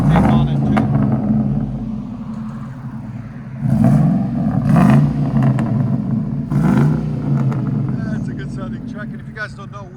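A 1999 Ford F-150 with a 4.6L V8, Borla ProXS exhaust and no catalytic converters, with a cold air intake, revs in repeated throttle blips over a loud, deep rumble, with people talking nearby.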